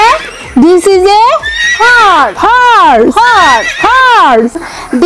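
A horse neighs in several loud, close whinnies, each a rising-then-falling quavering call, repeated about five times in quick succession with no talking.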